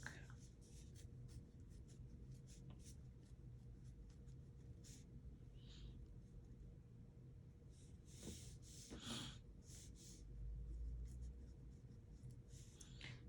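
Pen writing on paper in a quiet room, faint scratchy strokes coming in short bursts with pauses, close to the microphone, with occasional breaths and a sniff.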